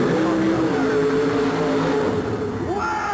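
A race car engine roars loudly and steadily at a 1989 monster truck and mud bog event, its pitch sweeping and climbing as it revs hard on nitrous oxide, with a sharp rising whine near the end.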